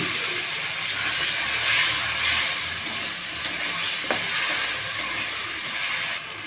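Masala paste sizzles and hisses steadily as it hits potatoes frying in oil in a pan for a fish roe fritter curry, with a few brief crackles and pops over the continuous close sizzle.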